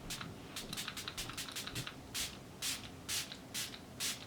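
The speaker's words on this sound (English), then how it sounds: "I love the spray nozzle. It's not an aerosol, but it is a spray like that." A series of short spray bursts from a non-aerosol cosmetic pump nozzle, quick bursts at first then slower, evenly spaced hissing sprays, close and fairly quiet.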